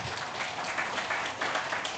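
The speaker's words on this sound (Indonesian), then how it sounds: "Kasih aplaus dulu lah buat mereka ini." Audience applause at a corporate launch event for the Samsat Corporate vehicle tax payment service, a steady broadband clapping wash sustained throughout at moderate volume with no talk over it.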